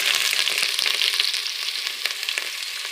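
Chopped ginger and green garlic frying in hot oil for a Gujarati vegetable tempering, a bright continuous sizzle with small crackles and occasional stirring clicks, close and steady throughout.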